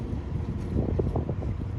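A small boat with a big engine runs under power, giving a steady low rumble mixed with wind buffeting and water wash, close and continuous.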